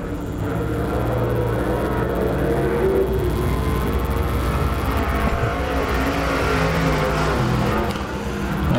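IMCA stock car on a qualifying lap at Arizona Speedway, its engine a loud, steady roar holding for the whole stretch with little variation, like a car running at speed around the oval.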